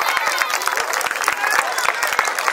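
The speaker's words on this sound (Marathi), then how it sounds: "जोरदार टाळ्या यांच्यासाठी." Dense, steady applause from a school annual function audience fills the hall, with sharp overlapping claps continuing evenly throughout.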